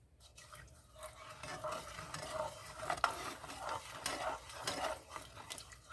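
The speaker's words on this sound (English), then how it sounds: "So let's give it a stir." A spoon stirs seafood chowder with bay leaves in a pot, scraping and clinking softly in a steady, continuous rhythm, close up at low volume, with no talking.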